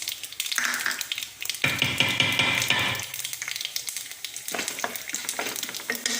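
Close, steady sizzling and crackling of mustard seeds, chana dal and urad dal frying in hot oil, with a louder burst partway through and occasional light stirring taps.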